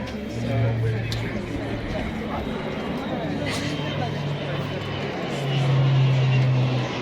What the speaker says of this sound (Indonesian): Itu dia pesawat Israel.